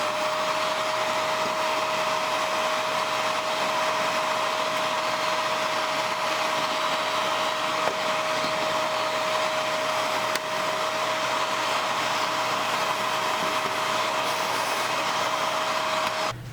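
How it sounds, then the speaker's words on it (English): A household vacuum cleaner runs steadily and loudly throughout, with a constant whine and broadband rush while being pushed along a surface during home cleaning. "Now I'm going to turn the vacuum on and I'm going to just run the vacuum along here."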